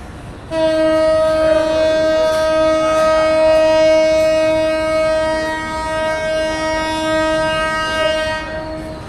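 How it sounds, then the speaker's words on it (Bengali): Meghna Express leaving Chandpur station sounds a long, loud, steady horn blast that holds for most of the clip over a low background rumble, with no talking. "একদম ভোর 5টার সময় আমাদের ট্রেন মেঘনা এক্সপ্রেস ছেড়ে দিল চট্টগ্রামের উদ্দেশ্যে"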